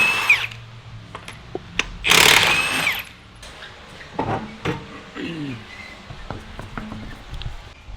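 An air impact or power tool on a car's wheel lug nuts, loud short bursts of whirring and rattling between clanks and handling noises, with a few quieter tool sounds and brief squeaks.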